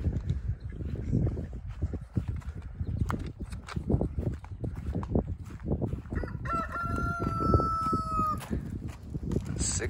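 Farm chickens cluck busily while a rooster gives one loud crow in the middle, set against a backdrop of rustling and scratching in a winter farmyard.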